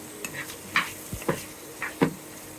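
Bamboo shoots seasoned with green chilies and chili powder are stirred in a pan, giving a handful of separate scraping, clattering strokes spread over a couple of seconds. The strokes are moderately close, with quiet gaps between them and no voices.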